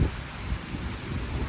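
Tropical Storm Debby in Key West brings wind and rain. A brief, steady rush of wind buffets the microphone with low rumbling gusts and a dense hiss.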